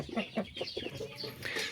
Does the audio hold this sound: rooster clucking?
yes